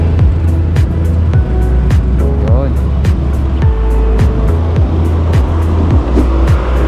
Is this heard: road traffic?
yes